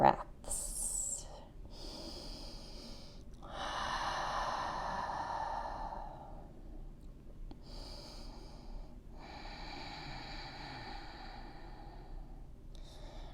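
Slow, deep breaths during a yoga forward fold, several long audible inhales and exhales close to the microphone, fairly quiet, with no talking.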